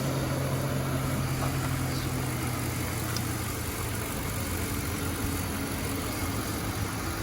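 A 2003 Mercury Grand Marquis LS with Ford's 4.6 liter DOHC V8 idles steadily on a hot day, a continuous low hum with a smooth, even rumble throughout, close and alone.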